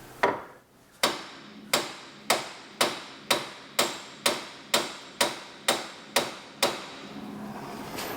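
A hammer strikes wood in a steady rhythm, about a dozen sharp, evenly spaced blows, close and clear with brief ringing decay after each.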